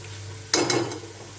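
Vegetable curry stirred in a pan right after salt goes in: a brief scraping stir with a couple of quick strokes, close and moderately loud, then quiet.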